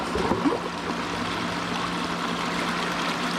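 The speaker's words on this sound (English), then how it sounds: "I'll turn the sump pump on." Homemade copper sluice with water from a sump pump rushing through it, a steady close wash of flowing water with a low pump hum underneath, with no talk over it.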